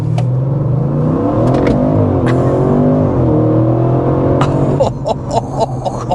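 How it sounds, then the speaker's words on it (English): A 2025 Audi RS6 Avant accelerating hard, its engine climbing through the revs in a loud rising roar with a gear shift partway, then sharp clicks and knocks as it settles. "let's go ahead and start with a hard acceleration"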